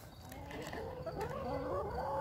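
A backyard flock of around 22 hens of mixed breeds, including Cinnamon Queen and Americana, clucks softly and faintly, with overlapping rising murmuring calls building gradually over a quiet background.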